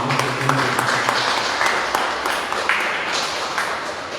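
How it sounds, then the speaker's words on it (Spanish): An audience at a tribute gathering gives a round of applause in honour of Pepito, a dense patter of many hands with a few sharper claps, moderately loud and steady, with faint speech at the start. "Yo quiero que a la distancia a Pepito le tributemos un aplauso."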